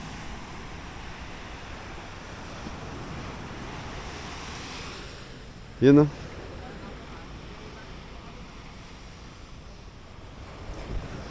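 Ocean surf washes steadily near a boat off the coast of Dingalan on a rainy, stormy day, a constant low wash mixed with wind, and a brief spoken voice cuts through midway.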